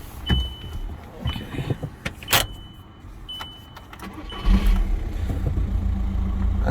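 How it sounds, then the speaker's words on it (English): A Volkswagen Jetta MK5 is started: clicks and key rattles with a short chime come first, then the engine catches and settles into a steady low idle near by. "you will want to start the vehicle."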